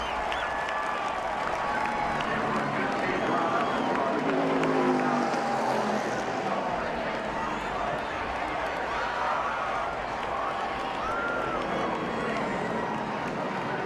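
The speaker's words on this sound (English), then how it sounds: "standing ovation from the crowd" A large motorsport race crowd at a NASCAR event roars and applauds in a steady, dense wash of cheering and clapping that stays loud throughout, with a commentator's voice talking over it.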